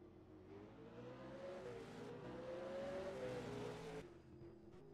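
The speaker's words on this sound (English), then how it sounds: "Paul Firth trying to do doughies after the race" A V8 race car engine revs steadily and loud while doing doughnuts after a race at Hidden Valley, a sustained droning roar rising and falling in pitch, with a brief dip near the end.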